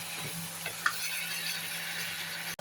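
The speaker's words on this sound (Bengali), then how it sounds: "হালকা কষানো হয়ে গেলে ওখানে আমি শিং মাছ দিয়ে দিব" Stinging catfish fry with spices in a pan, a soft steady sizzle with a few light stirring clicks and scrapes, quiet and close, with no talking.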